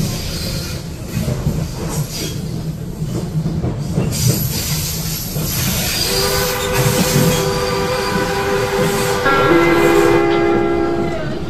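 A historic Ečs metro train rolls along depot tracks between Kačerov station and Kačerov depot in Prague, with steady rumbling and clattering wheels, then rising tonal whines and squeals as it moves, close and loud throughout.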